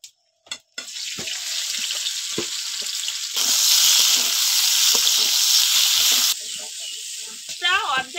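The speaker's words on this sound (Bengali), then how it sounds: "পটল ভাজার তেলে ঢেঁড়সগুলো ভেজে নেব" Okra fried in hot oil left over from frying pointed gourd gives a loud, steady sizzle that swells louder midway and then eases back. A voice speaks briefly over the hiss near the start and again near the end.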